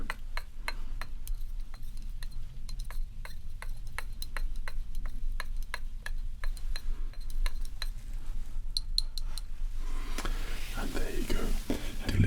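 A spoon stirs herbal tea in a cup, giving a steady run of light, bright clinks and ticks against the ceramic. It is close and quiet, and soft whispering continues beneath it.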